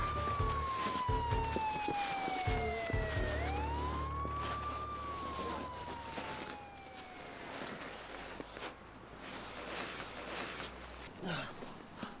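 A police siren wails in long rising and falling sweeps, moderately distant, over a low rumble of traffic, fading out toward the end.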